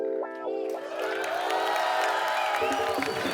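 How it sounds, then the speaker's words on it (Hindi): A studio audience at a comedy talk show cheers, whoops and applauds loudly in a dense, sustained swell, rising over music and a voice at the start. "आप सबकी जोरदार तालियों के बीच मैं इनवाइट करना चाहूंगा इंडियन टेनिस सुपरस्टार सानी"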